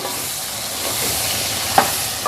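Garlic ginger paste sizzles and hisses steadily in a hot pan, with a faint clink of a spoon stirring near the end.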